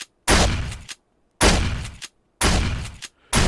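In the survival game 7 Days to Die, a shotgun fires in three heavy blasts with a fourth starting, each boom ringing out briefly before silence, loud and close.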